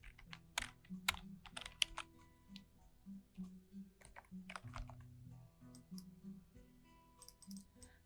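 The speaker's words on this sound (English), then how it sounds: "So I'm going to type in this query." Keys clatter on a computer keyboard while a database query is typed, with irregular bursts of close, crisp clicks and short pauses between them.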